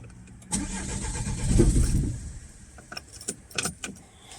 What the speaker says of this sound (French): Donc là, elle coupe, elle démarre et elle coupe.